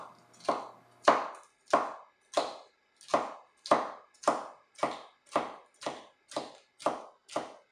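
Knife slicing a bell pepper into thin julienne strips on a cutting board, a steady series of about a dozen crisp, evenly spaced chops, close and clear with no talking.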